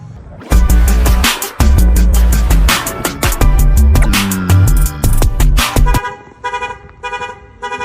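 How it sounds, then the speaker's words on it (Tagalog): Loud car horns honking repeatedly in close bursts near a Mazda RX-8, overlapping tones blaring together, then a few thinner beeps toward the end. "Yun ang mga busina."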